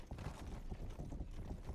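Horse hooves clip-clopping in a video game while riding, a quiet, rapid and steady run of soft thuds across the whole stretch with no one talking.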